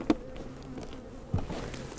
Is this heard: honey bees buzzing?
yes